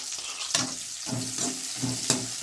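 Onion and potato pieces hit hot oil in a pan and sizzle, with several distinct splashing crackles and stirring scrapes recurring about every half second over a steady frying hiss.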